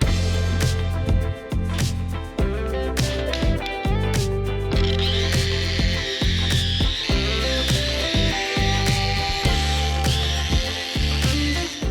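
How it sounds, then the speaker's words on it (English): A wire brush scrubs rust from the ends of leaf springs on a 1976 Chevy Squarebody, a loud, rapid grinding rasp broken by repeated short stops and restarts with sharp clicking transients. "we're going to clean out the ends of these things. Wire brush is cleaning"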